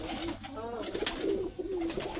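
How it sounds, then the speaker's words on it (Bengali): Pigeons coo repeatedly in a crowded pigeon farm with many birds in a small space, soft rolling calls overlapping under steady background noise. "অল্প জায়গায় অনেক কবুতর"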